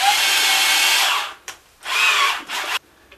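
A power drill bores through a guitar body fitted with a masking-tape stop, giving loud, close, sustained whining bursts that cut off, pause and start again in short runs.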